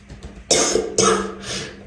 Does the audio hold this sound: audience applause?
no